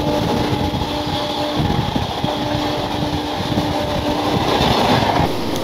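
A Howrah to Digha local train runs steadily, its loud continuous rumble and wheel clatter filling the carriage without pause.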